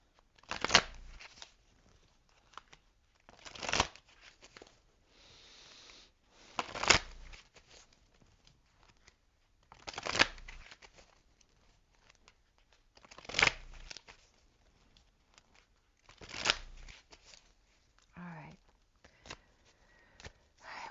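Oracle cards from a Journey of Love deck shuffled in several quick, crisp bursts, each a second or so long, with pauses between them and some soft handling noise; moderately close and clear.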